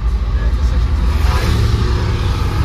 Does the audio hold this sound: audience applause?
no